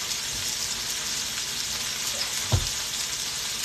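Apricot pork chops frying in a pan over medium heat, a steady close sizzle with a brief clatter partway through.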